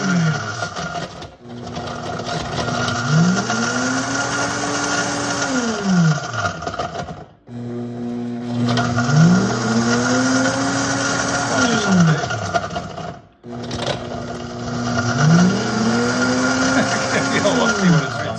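A VEVOR professional blender with a sound shield runs a crushing program cycle, its motor repeatedly ramping up to a high whine and winding back down in three loud, regular surges separated by brief pauses.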